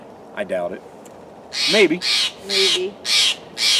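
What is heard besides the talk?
bird squawking noisily in a tree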